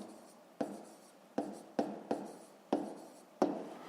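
A pen scratching on paper, working through a fifth-grade maths exercise: six short separate strokes, each a sharp onset that fades, close and fairly quiet, with no voice.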